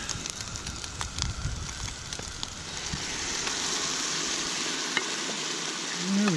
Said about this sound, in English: we got us some cheese sauce in the pan now